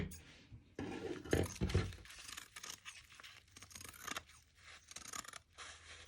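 Scissors cutting a fabric pattern piece for a handmade plush toy, with quiet crisp snips and rustling of cloth in an irregular rhythm, close up and faint.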